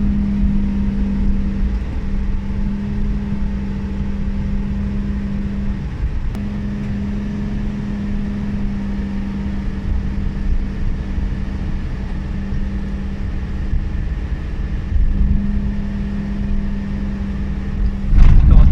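A Suzuki Every Wagon DA17W engine drones steadily while climbing uphill, a constant low hum heard from inside the cabin with a brief dip midway.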